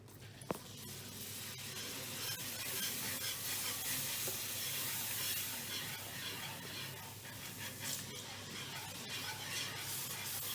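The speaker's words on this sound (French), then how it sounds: "Maintenant, on va ajouter le lait et bien mélanger." Milk being stirred into a béchamel sauce for lasagne, a steady soft hiss and bubbling with light scraping in the pan, constant and close, with no voices.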